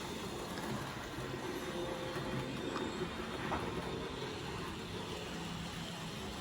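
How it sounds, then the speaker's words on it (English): Model trains running around a layout track give a steady, low rolling rumble with faint rail clatter, continuous and fairly quiet throughout, with no voices. "I'm running in a couple of trains actually while we're doing some other work."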